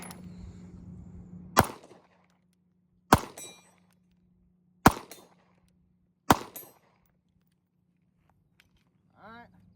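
A MAC 9 DS pistol fires MagTech steel-case ammunition outdoors, four loud, sharp gunshots spaced about one and a half seconds apart, each with a short echo tail, ending in quiet.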